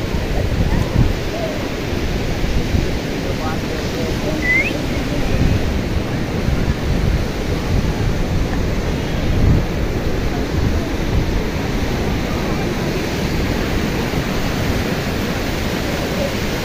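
Ocean waves roll onto the seashore at Bandra, Mumbai as a loud, steady roar of surf mixed with wind buffeting the microphone, unbroken for the whole stretch.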